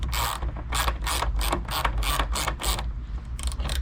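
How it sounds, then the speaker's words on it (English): A ratchet handle with an 8mm socket turns tail lamp nuts on a Chevy Cruze, giving a steady run of loud, close pawl clicks in even strokes that slow slightly near the end. "I have a ratchet handle and also a 8mm socket, and we're gonna go ahead and"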